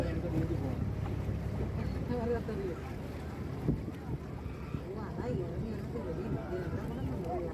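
Steady engine drone of a speedboat on Ashtamudi Lake, Kollam, with wind buffeting the microphone and a constant low rumble throughout.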